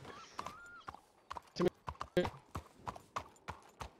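Horse hooves clip-clop in a steady, evenly spaced walking rhythm in a Western roleplay video game, close and distinct, with a brief whinny and a voice talking over it.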